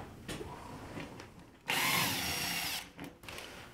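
A power drill backs screws out of clamped wood, with a steady loud whir lasting about a second, preceded and followed by quieter handling noises and brief drill pulses.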